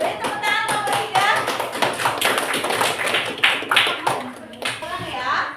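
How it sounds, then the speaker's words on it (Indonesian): A classroom of children claps for group 3 in a rhythmic, patterned clap, crisp and fairly close, with kids' voices and a teacher talking through it. "Beri tepuk tangan kelompok 3."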